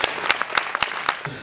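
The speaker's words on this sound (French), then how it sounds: "On va les applaudir très très fort." A brief burst of audience applause at a comedy festival event, a handful of distinct claps heard close and fairly loud over just over a second.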